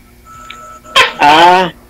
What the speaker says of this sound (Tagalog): Grabe yung tunog ng tuko